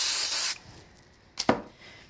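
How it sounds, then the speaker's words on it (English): Spray glue hisses in a steady half-second burst onto card, then quiet, followed by two quick faint rustles as the sheet is handled. "So a little bit of spray glue and some Cosmic on the back."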